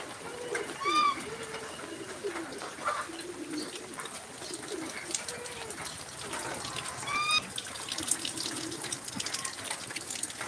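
Caged pigeons, including a large heavy-bodied one, give soft repeated coos during rain, with higher chirps near the start and end and a faint watery patter throughout; no voices.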